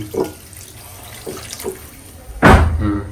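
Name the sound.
water poured into pot of cooking mutton curry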